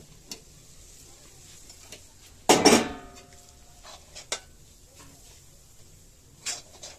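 A cooked sweet mixture with date-palm jaggery is tipped from the pan onto a metal plate, giving one sharp loud clatter of metal on metal, then a few faint taps and scrapes in an otherwise quiet kitchen.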